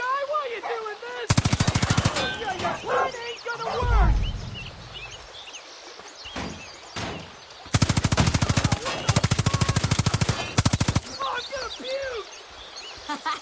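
Gunfire in the video game Far Cry 5, two long bursts of rapid automatic fire with a heavy thud between them, over game voices, animal cries and background noise.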